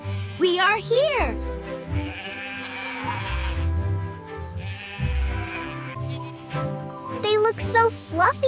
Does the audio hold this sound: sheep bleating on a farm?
yes